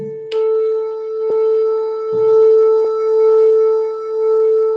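Two cell phones play 440 Hz and 441 Hz tones together, and the combined note swells and fades in slow, regular beats about once per second, with faint clicks along the way.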